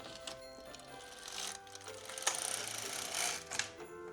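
An LK-150 knitting machine knits a Christmas stocking at tension 7, its carriage rattling and clacking steadily across the needle bed in continuous mechanical passes, close and fairly loud, with no voices.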